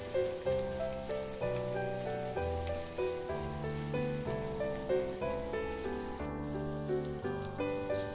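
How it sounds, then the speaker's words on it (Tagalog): Garlic sautés in a pan for a sotanghon dish, giving a steady, crackling sizzle that runs continuously beneath louder background music. "Igisa ko na yung bawang. Ihalo lang din hanggang sa maglabas lang ng aroma."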